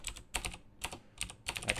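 Quick keystrokes on a computer keyboard come in short clattering bursts, about five clusters of rapid clicks spaced by brief pauses, close and moderately quiet with no talking.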